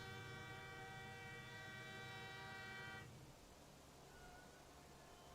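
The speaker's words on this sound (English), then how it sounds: "Aggressive train noises in the background." Loud train rumble and a sustained horn-like tone inside the game Counter-Strike: Global Offensive during a 2020 BLAST Premier match, the horn cutting off after three seconds while the low rolling rail noise carries on steadily.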